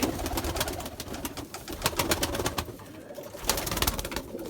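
Erzurum white pigeons, young birds among them, coo near a close loft in a soft, continuous murmur of overlapping calls, with a few brighter rustles and flutters rising briefly.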